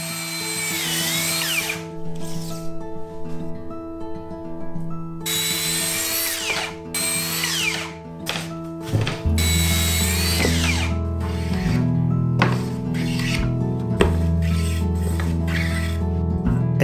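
Power tool rough-cutting lumber boards into shelf, vertical and bottom pieces during a Japanese veranda renovation, loud close whining bursts that start and stop repeatedly, each cut a few seconds long over steady machine hum.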